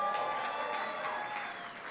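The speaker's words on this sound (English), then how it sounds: "Give him a big round of applause." Faint, steady clapping from the audience at a US State of the Union address continues throughout, with a light crowd murmur mixed in.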